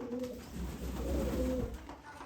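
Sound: pigeons cooing while being fed grain

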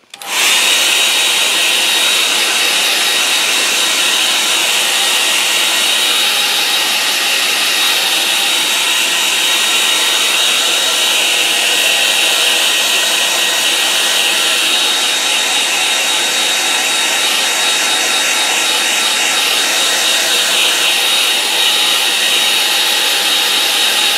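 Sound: hair dryer drying paint on a painting

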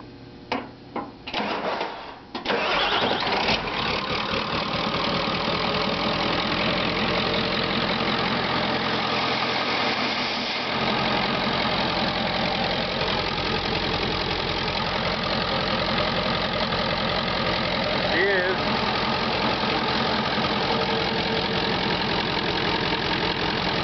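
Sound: diesel engine running

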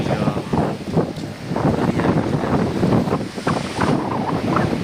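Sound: sea waves breaking on the beach

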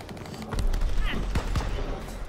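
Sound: gunfire in video game Call of Duty WWII

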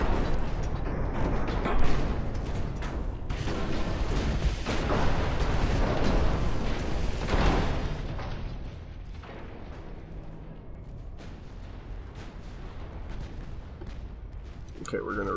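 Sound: naval gunfire from warships in Ultimate Admiral Dreadnoughts video game

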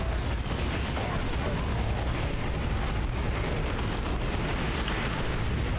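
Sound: grenade explosion in video game Dawn of War 2

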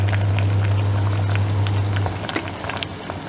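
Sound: mutton bone curry boiling in a pot

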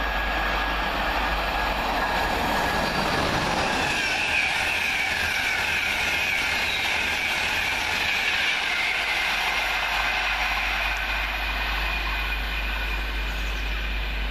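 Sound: passenger train passing

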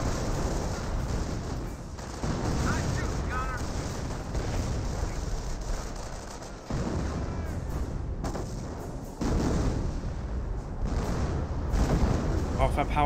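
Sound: gunfire in Company of Heroes video game battle

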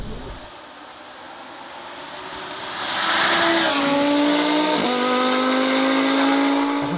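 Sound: Audi R8 GT MTM sports car driving

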